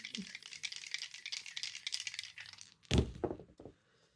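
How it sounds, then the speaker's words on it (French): Divination dice rattle in a hand or cup for a while, then clatter sharply onto a surface in one loud throw and a couple of smaller bounces before silence. "je vais vous faire un petit tirage de dés. Voilà, les dés de divination."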